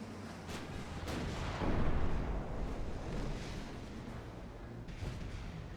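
Heavy battleship main guns firing in Ultimate Admiral: Dreadnoughts, deep rumbling booms with a few sharp cracks and a long rolling low-end tail, loud and continuous without talk.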